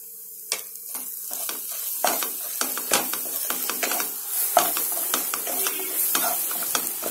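Ground masala powder with turmeric sautés in a kadai for kadai paneer gravy, a soft sizzle under frequent scraping and clinking of a spatula stirring against the pan, close up.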